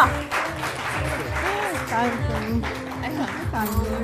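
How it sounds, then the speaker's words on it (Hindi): A studio audience on a Pakistani weekend talk show claps for arriving guests, steady applause under loud music and overlapping speech. "तालियां।"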